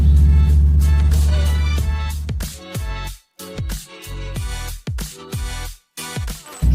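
A BMW Z4 runs nearby with a loud steady engine drone that breaks into a series of sharp thumps and brief dropouts as it drives.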